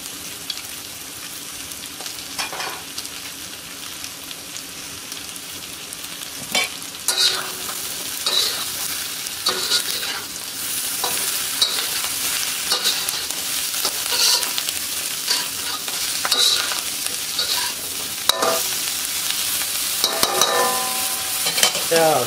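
Pork and broccoli stir-fried in a pan, with continuous sizzling and crackling and bursts of utensil scraping and stirring throughout, close and fairly loud with no talking.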